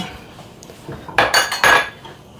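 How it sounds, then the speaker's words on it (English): Butter roux stirred in a pan for a Thanksgiving dinner, heard as a quiet lull and then several bright metallic scrapes and clinks of a utensil against the pan, close and clear, with no talking. "We make the roux. I have to stir."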